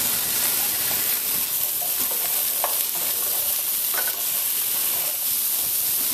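Onion, carrot and celery frying in oil in a skillet, a loud, dense, continuous sizzle and hiss close by, with faint stirring scrapes and no voices.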